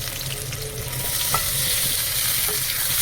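Mushrooms fry with potato and onion in a hot pan, giving a loud, continuous hiss and sizzle that stays steady throughout, with faint stirring scrapes underneath.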